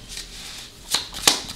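Tarot cards are shuffled up close, a soft riffling rustle followed by two sharp, crisp snaps of cards, with no voices.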